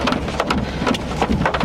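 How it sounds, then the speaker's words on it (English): Hail falls with rain during a tornado-warned Oklahoma thunderstorm, a dense, steady, close patter with scattered louder hits throughout. "there's hail falling now"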